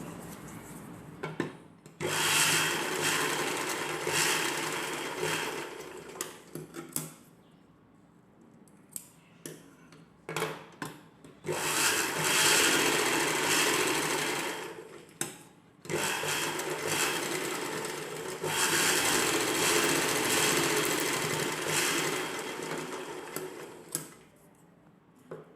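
A sewing machine stitches a second seam along the upper side of a folded umbrella-cut dress piece, running in several long steady bursts with short pauses between them, close and loud, with no talk.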